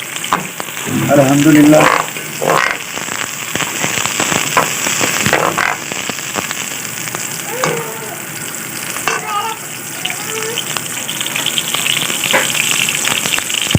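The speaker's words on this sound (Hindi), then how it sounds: "अब हम इसमें प्याज डाल देंगे।" Sliced onions frying in hot oil for chicken nihari, a loud crackling sizzle that bursts up when they hit the pan, then steady hissing with stirring clatter and a brief spoken word.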